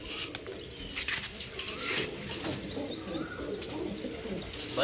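Pigeons, including a 20-year-old bird, coo softly and repeatedly at close range, with a few chirps and a busy bird background running throughout.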